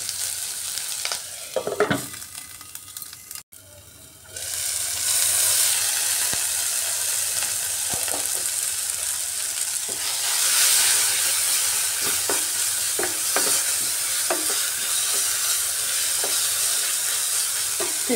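Tomatoes sauté in a covered pan, a steady sizzle and hiss that swells after a brief lull and holds evenly, with occasional soft clicks and stirring sounds and no talking.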